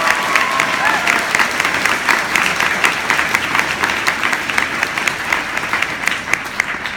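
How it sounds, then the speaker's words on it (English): Audience applause for teachers and staff fills a graduation hall, many hands clapping in a dense, even roar that holds steady from start to finish with no voices over it. "So I just want to give them a round of applause."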